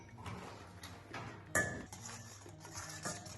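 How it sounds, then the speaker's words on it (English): Egg yolks, butter, sugar, lemon zest and milk being whipped by hand in a bowl, giving soft, continuous scraping and light clinks of utensil against the dish, with one sharper knock partway through. "We start to whip it, the yolks with a butter."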